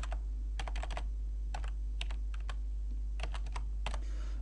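Someone types an IP address on a computer keyboard, giving close, crisp key clicks in short irregular bursts over a steady low hum.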